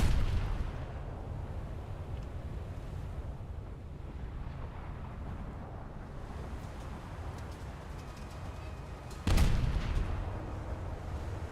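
Cruiser Emden blowing up in a naval warfare video game, a sudden deep explosive burst cutting through a steady low rumble of battle ambience, with no talking.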